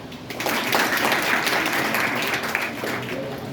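Audience applauding on cue at a seminar for SSC students, a dense burst of many hands clapping that swells quickly and holds steady, fairly loud and close, with a voice faintly under it.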